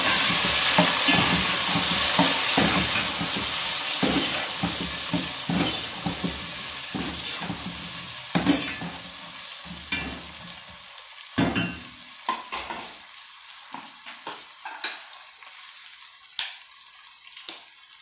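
Cumin, cardamom, chopped tomatoes and green chillies sizzle in a pot for beef yakhni pulao, a dense frying hiss at first that settles, broken by repeated scraping stirs and clinks of a spoon.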